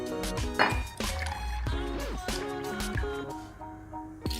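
Water poured into a bowl for cinnamon roll dough, a close liquid pour with splashing and trickling over a few seconds against a musical background.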